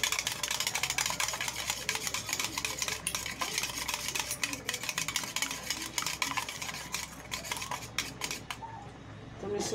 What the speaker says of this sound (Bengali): এটাকে আমি ভালো করে মিক্সড করে নেব।